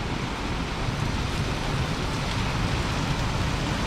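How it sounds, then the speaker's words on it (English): Heavy rain pours down outside, a dense, constant roar with no letup across the whole stretch and no voices. "it is raining like crazy outside"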